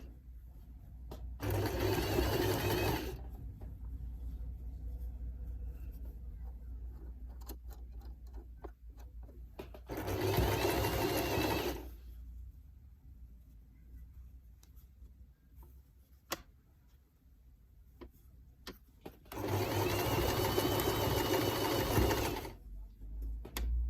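A household sewing machine runs a blind hem stitch in three separate loud bursts of steady mechanical whirring, with quiet pauses between them.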